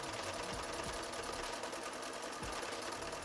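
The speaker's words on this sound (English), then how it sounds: "I know it's just sewing straight lines on fabric" A sewing machine stitches straight lines on quilting fabric, a fast continuous mechanical whirring and rattling hum, steady and close, with no voices.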